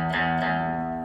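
Electric guitar played through a Dr Robert distortion pedal with the mids cut, giving a sustained, thick distorted chord that rings steadily and loud for about a second with no talking.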